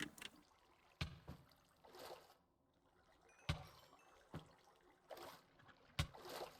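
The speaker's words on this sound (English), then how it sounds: "I'm just trying to cool down in the water" Minecraft RLCraft character wading in water, soft sloshing and splashing strokes recurring roughly every second, quiet and close, with faint ambient game sound between them.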